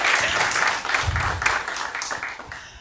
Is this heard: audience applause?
yes